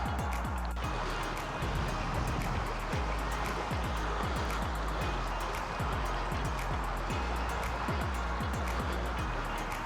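River water rushes steadily where terriers are playing, making a continuous broadband flow. Low thumps and handling noise from a moving camera sit under it, with no clear talk.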